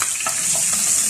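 Garlic and ginger sizzle in hot coconut oil, a loud close hiss with a few soft crackles, brief and continuous.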